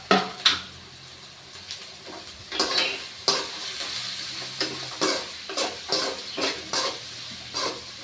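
Carrot and shredded cabbage sautéed in a pan for egg rice, with irregular clinks and scrapes of a ladle against metal over a soft sizzle, close-up and quiet with no speech.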